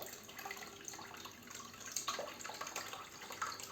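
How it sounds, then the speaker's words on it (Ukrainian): Cold water runs steadily into a pot, filling it full, a soft continuous splashing rush with faint drips, fairly quiet and close. "Холодну воду наливаємо просто повну повну таку каструлю"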